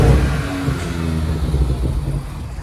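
Seat Ibiza engine revving with strong induction noise, a loud close rumble that swells at the start then holds a steady throaty drone with wavering pitch throughout, no voices over it.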